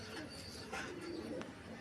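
A pigeon from a topi flying breed kept in a home loft coos softly twice over a steady background hum, the calls faint and somewhat distant.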